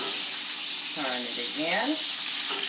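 A seasoned steak fries in a pan with a steady, close hiss and sizzle throughout, while a person speaks briefly over it.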